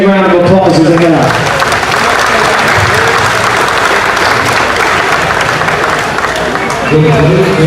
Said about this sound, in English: Give those kids a big round of applause as they head out.